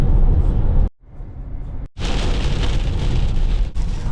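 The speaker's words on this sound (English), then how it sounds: "Oh my god, we're heading straight into this huge storm." Heavy storm rain pounds a vehicle driving on a highway near Utah salt flats, a loud, dense roar of rain and wind that cuts out briefly twice before surging back.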